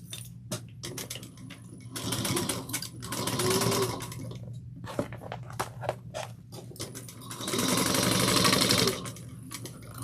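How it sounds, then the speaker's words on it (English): A sewing machine stitches trim onto a tote bag at an eighth-inch seam in two close, loud bursts of rapid stitching, with clicks and handling noises between them and no talking. "Clip it, and then we're going to sew it at 1/8 of an inch."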